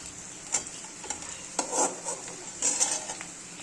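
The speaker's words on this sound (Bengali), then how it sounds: "আস্তে করে সব কটা আলু তুলে নিলাম" Fried spiced potatoes are lifted from a pan with a utensil, giving a few irregular clinks and scrapes of metal against the pan over a soft, low sizzle of oil, close and fairly quiet.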